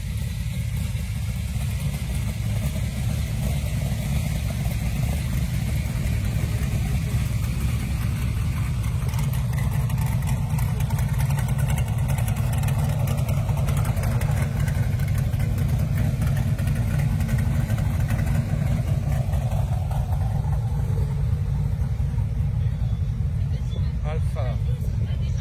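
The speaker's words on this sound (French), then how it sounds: "Le Tomaso. Pantera GTS les amis." A De Tomaso Pantera GTS idling at a classic car meet, its steady low engine rumble holding close and loud the whole time while people talk nearby.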